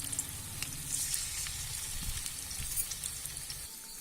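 Restaurant-style hot and spicy chicken 65 pieces deep-fry in oil, producing a soft, steady crackling sizzle with faint bubbling pops, fairly quiet and uninterrupted, with no talking.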